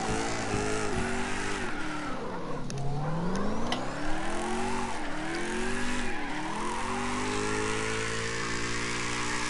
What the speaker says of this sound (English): now I'm redlining